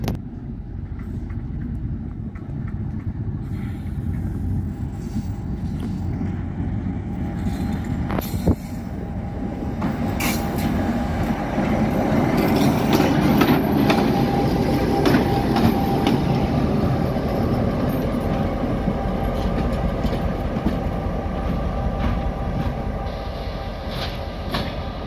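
A KCR light locomotive GMU rolls through Badal Nala railway station in Karachi, a steady low rumble with clicking wheels and rail clatter, growing slightly louder midway and holding for the whole stretch.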